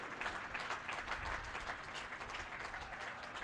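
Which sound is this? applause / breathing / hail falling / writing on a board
applause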